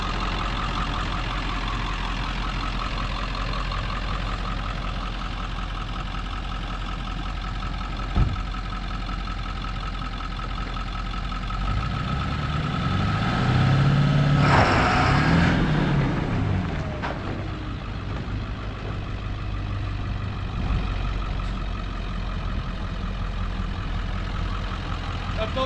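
Ford F-550 4x4 with a 7.3 diesel and six-speed manual rumbles at a steady idle, swelling briefly louder midway as it revs or pulls away, then settling back to a low constant drone.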